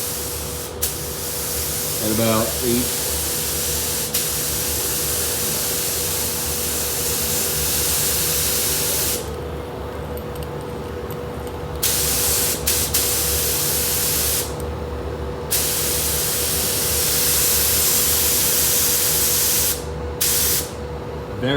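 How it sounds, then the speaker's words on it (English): A spray gun lays wet coats of pearl paint onto a Volvo front bumper, a loud continuous hiss broken by a few short pauses, with a brief spoken phrase early on. "2 wet coats of pearl going down on the Volvo 707."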